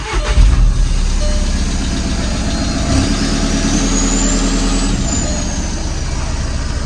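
A diesel engine in a VW Jetta Sportwagen TDI (MK6) fires up and settles into a steady, close idle, a continuous low rumble with no talking over it.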